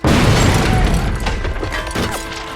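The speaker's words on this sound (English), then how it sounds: "She might be more convincing without the explosions." Explosions in the video game Perfect Dark Zero boom loudly at the start, then rumble and crash with debris clatter as they slowly fade, with no talk over them.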